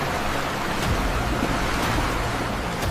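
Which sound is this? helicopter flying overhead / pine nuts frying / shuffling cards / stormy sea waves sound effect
stormy sea waves sound effect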